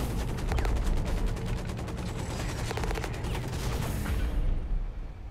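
Dense, rapid gunfire from the mech combat game Hawken, continuous bursts of shots crowding together at close range with a steady heavy rumble underneath, fading out near the end.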